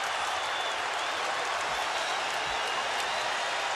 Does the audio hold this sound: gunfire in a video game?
no